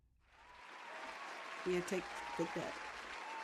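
Studio audience applause, a steady broadband wash building over a few seconds and holding, with a voice talking briefly over it.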